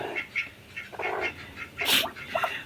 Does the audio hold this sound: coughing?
no